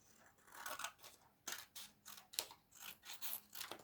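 Close, quiet snips of scissors cutting paper or card while a homemade toy is made, about a dozen crisp cuts in an uneven, steady rhythm.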